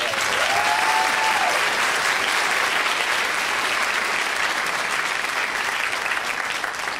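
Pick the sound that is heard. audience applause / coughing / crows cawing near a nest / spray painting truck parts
audience applause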